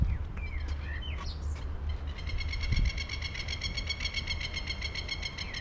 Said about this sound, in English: They're perching and chirping in the various trees